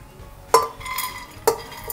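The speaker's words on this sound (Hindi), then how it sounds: "कुकर में ये सारी उड़द की दाल जो मैंने सोख करके पानी में रखी है उसे मैंने डाल लिया।" Soaked urad dal tipped into a metal pressure cooker, with two sharp metallic clanks of a utensil striking the pot, a brief scraping rustle between them and no voices.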